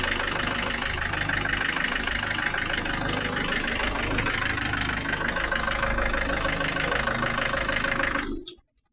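Diesel engine idling steadily after its injection pump timing was set to 24 degrees, a loud, continuous close-up clatter that cuts off abruptly at the end.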